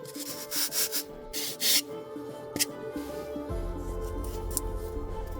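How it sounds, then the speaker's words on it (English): Sandpaper wrapped on a wooden paint-stirring stick rubs against a surface in short scraping strokes at close range, first in a few bursts and then a steadier continuous rasp, with no talking. "Just smack some sanding paper on it and you have way more control."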